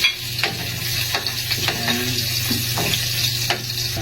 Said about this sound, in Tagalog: Gisahin natin ng bawang, sibuyas, luya.